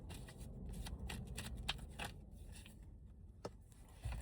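Tarot cards are shuffled quietly nearby, with soft repeated riffling flicks and taps in an otherwise still room.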